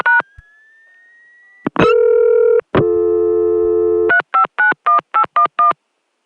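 A Chicago telephone line in 1981: a short tone, then a rising sweep, two steady tones in a row, and a quick, even string of about seven clear touch-tone dialing beeps, loud and alone.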